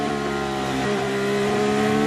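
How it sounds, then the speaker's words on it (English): A Formula 1 car at Dutch Grand Prix qualifying at Zandvoort, its engine a loud sustained high-pitched whine held steady as it passes close by. "that's the sound of Franco Colapinto"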